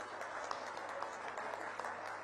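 Audience at an International Yoga Day event applauds, a faint, dense patter of many hands clapping continuously at a distance.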